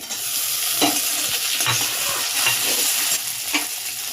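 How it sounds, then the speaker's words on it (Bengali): Chopped tomatoes go into a pan of fried onions and hit hot oil with a loud, steady sizzle, while a spoon stirs through with scraping clinks. "পেঁয়াজটা আমার ভাজা হয়ে এসছে। এবার টমেটো কুচিগুলো দিয়ে দেবো।"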